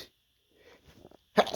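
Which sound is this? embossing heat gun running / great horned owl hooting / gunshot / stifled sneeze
stifled sneeze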